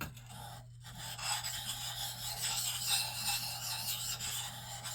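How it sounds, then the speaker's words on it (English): A Gransfors Bruks axe edge rasps across the finer side of a sharpening stone, a close, continuous scraping and rubbing after a brief pause near the start. "I switched over to the finer side of the stone just to clean everything up."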